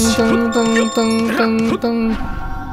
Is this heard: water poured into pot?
no